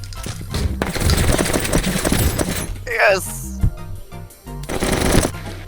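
Rapid automatic gunfire and impacts from the video game STRAFTAT ring out in dense bursts, with players shouting and talking excitedly over the shooting throughout.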